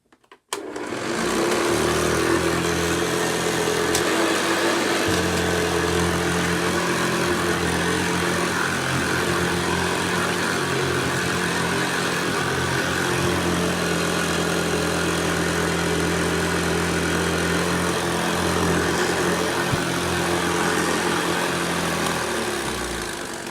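Vintage 1975 Hoover Senior Ranger vacuum cleaner switching on and running steadily, a loud constant motor whine with a rattly buzz from worn brush roll bearings, no talking.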